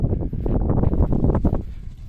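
Outdoor wind buffets the microphone in loud, low gusts while a kite is flown in open country, a continuous rumbling roar that eases off toward the end.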